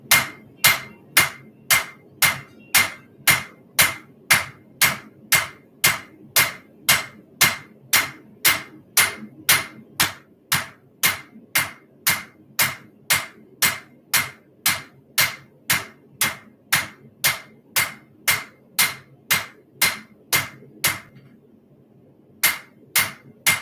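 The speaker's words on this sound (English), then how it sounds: "I'm going to use the round side of the hammer here, and I'm just going to try to picture starting from the center and working my way up and down" Rapid, steady hammer blows on a hot railroad spike being forged into a knife with the round face of the hammer, about two strikes per second, loud and close with ringing metallic impacts, and a short pause near the end.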